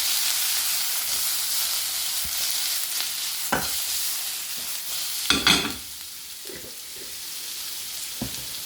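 Mushrooms sauté in a hot pan with a steady, bright sizzle and hiss, broken by a few scraping stirs and louder bursts of frying, heard close up without talking.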